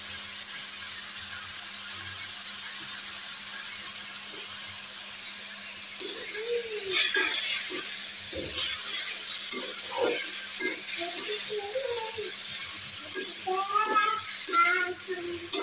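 Ash gourd frying in oil with onion, garlic and chili in a home kitchen, a soft steady sizzle joined halfway by clattering spoon strokes against the pan, near and moderately loud.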